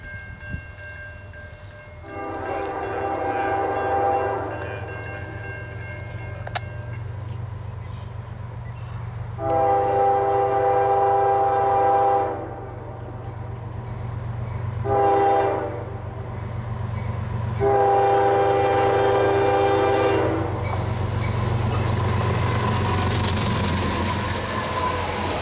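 Freight train Q567 of empty autoracks out of Oak Island, New Jersey, rumbles past under a steady low drone while its horn blows four separate loud blasts, the last one long.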